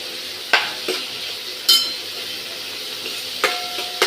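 Onion, tomato and cabbage sizzle in a pan for masala oats and are stirred, a steady soft fry broken by a few sharp scraping stirs, with no talk.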